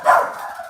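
Dogs give a single short bark or yip indoors, fairly close, with a brief tail of room sound afterward and no talking over it.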